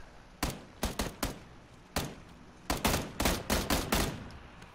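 Gunfire in the battle royale game PUBG, a series of loud rapid shots in short bursts with pauses between, the final cluster a tight rattling volley.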